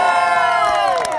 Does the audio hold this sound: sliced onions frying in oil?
no